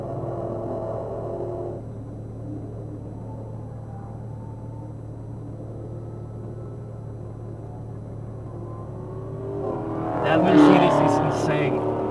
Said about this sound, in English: Got a couple of cars coming.